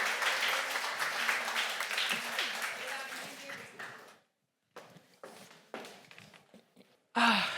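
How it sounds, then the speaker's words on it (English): A crowd at an awards ceremony applauds for several seconds, the clapping tapering off, followed by scattered thumps and a voice. "let's give a final round of applause for this wonderful group of winners"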